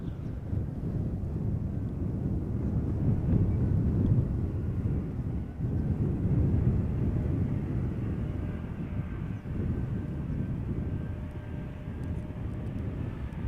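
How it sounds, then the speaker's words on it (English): An Embraer 190 airliner arriving at Amsterdam Schiphol from Basel gives a steady, broad low jet roar with mild wind buffeting, loud and sustained at moderate distance, swelling slightly and then holding. "this one is the Embraer 190 arriving from Basel, flight 1986"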